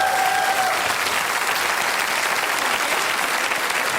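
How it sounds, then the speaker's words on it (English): Studio audience at a comedy panel game show applauding loudly and steadily, a dense unbroken wash of clapping from start to finish with no talk over it. "give them a big round of applause"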